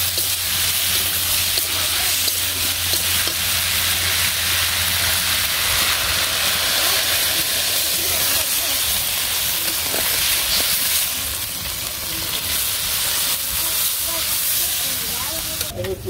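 Curry gravy liquid poured into a hot pan of cooked-down curry sets off a loud, continuous steamy hiss that holds evenly throughout, close up and without speech.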